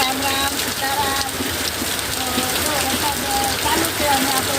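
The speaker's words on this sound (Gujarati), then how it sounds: "વરસાદ ચાલુ છે" Steady rain falls and patters on surfaces outdoors, a continuous dense hiss that stays close and fairly loud. A voice is faintly heard beneath it.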